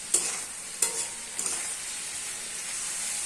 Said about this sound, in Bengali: এবার এটা দিয়ে আমরা ভালো করে মিশিয়ে নেব। আর এই সময় গ্যাসটা থাকবে হাই ফ্লেমে।